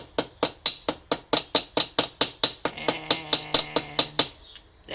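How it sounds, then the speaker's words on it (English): Cast pewter coathook struck repeatedly with a hammer on a railway anvil, a close, steady run of about twenty sharp metallic blows with bright ringing clinks, alone without talk. "So as I hammer this, it also does harden quite a lot"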